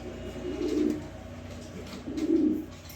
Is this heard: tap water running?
no